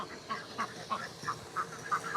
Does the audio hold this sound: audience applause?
no